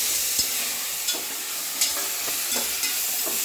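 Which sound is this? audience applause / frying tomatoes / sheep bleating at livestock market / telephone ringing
frying tomatoes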